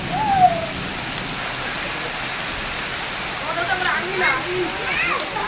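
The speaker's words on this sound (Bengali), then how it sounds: "আপনার রহমতের বৃষ্টি" Heavy rain falls in a constant, full hiss on surfaces, with a brief tonal cry near the start and a few voice-like sounds murmuring faintly under the downpour.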